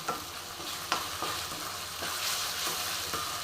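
Ginger garlic paste fries with onion in a pan, a close, steady sizzle broken by the scrape and clack of stirring, growing slightly louder toward the end.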